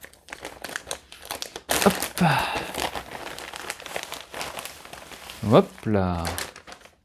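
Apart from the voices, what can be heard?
unwrapping plastic packaging of a France 2024 football jersey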